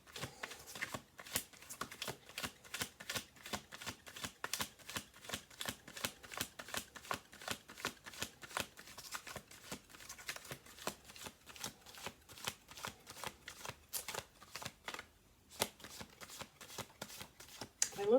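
Playing cards shuffled over and over in quick, steady riffling bursts, close and crisp, with a brief pause near the end before the shuffling resumes.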